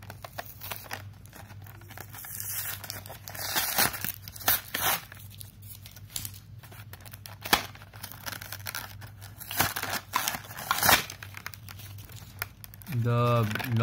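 Takaratomy Beyblade Burst Spryzen S2 packaging being opened, with continuous close crinkling, tearing and rustling of plastic and cardboard, dense irregular crackles throughout and a brief tonal buzz near the end.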